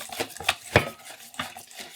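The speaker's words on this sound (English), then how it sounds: "give that a bit of a whisking" A whisk beats a stiff keto pancake batter of psyllium husk, oil and vanilla in a bowl, giving quiet, irregular taps and clinks against the side in a loose rhythm.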